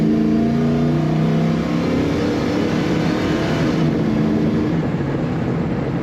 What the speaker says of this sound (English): Let's hit the throttle again.